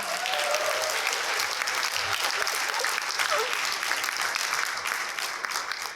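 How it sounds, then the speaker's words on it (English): A conference audience gives sustained, dense applause that holds steady and loud for several seconds before tapering at the end. "give her a round of applause to get rolling"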